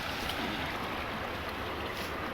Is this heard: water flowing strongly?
yes